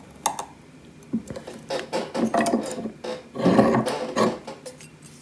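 A press pushes a press nut into a 5-inch freestyle drone frame on a workbench, with a series of close clicks, scrapes and creaking mechanical clunks building to a louder squeeze near the end.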